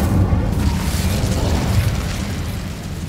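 Incendio fire spell cast in the Hogwarts Legacy video game, a dense roaring whoosh of flame with deep booming rumble that holds steady and loud throughout, no talking over it.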